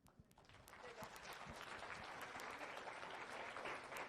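An audience gives panelists a big ovation at a literacy event, clapping building from a few quick claps into a full, sustained wash of applause, heard from a distance.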